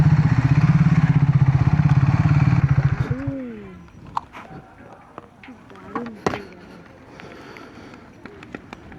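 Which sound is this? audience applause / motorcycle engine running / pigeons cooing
motorcycle engine running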